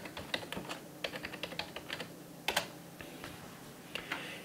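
Fingers type on a computer keyboard, entering a search into the Firefox address bar on an Ubuntu system: a close, moderately loud run of irregular key clicks with brief pauses and a few sharper bursts, no voices.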